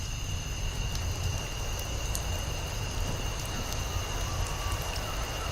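Rain falling in the Wuthering Waves game world during a story quest, a steady soft hiss with faint high tonal ringing and a few light ticks, even and continuous without speech.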